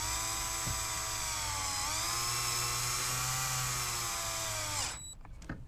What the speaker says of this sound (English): I'm going to use a self-tapping screw to fill the hole that I drilled earlier.